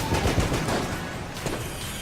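Bouncing bullets firing in Enter the Gungeon, a dense, continuous rattle of rapid shots and ricochet impacts, loud and steady for a couple of seconds with no talk.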